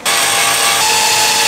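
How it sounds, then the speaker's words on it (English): A power drill bores a hole to mount a portable camping water heater, a steady close whirring and grinding held without pause, loud and alone with no talk. "We're gonna drill the hole for the heater."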